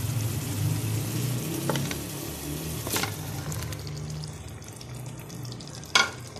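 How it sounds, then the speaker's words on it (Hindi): Chicken dropped into spices frying in a karahi gives a steady close sizzle with stirring scrapes and a sharp clatter near the end, no voices. "अब हम इसमें चिकन डालेंगे।"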